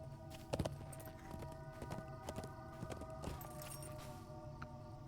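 Horse hooves clip-clopping in the online game Lord of the Rings Online (LOTRO), a steady run of close, fairly faint hoof beats with a few sharper strikes early on, no talk.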